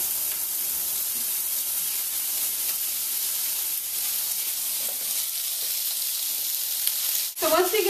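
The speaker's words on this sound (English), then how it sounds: "I'm going to stick it in the skillet, which is already hot." Philly cheesesteak meat sizzles in a hot skillet in its own fat, a dense, even, bright hiss running steadily and close, broken near the end by a brief scrape or stir.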